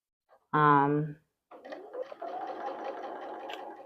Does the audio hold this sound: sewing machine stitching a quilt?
yes